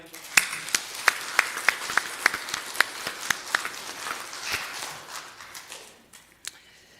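Church congregation clapping in response to a pastor at a Korean Full Gospel church service, a run of sharp, fairly close individual claps that thins out and fades, with speech underneath.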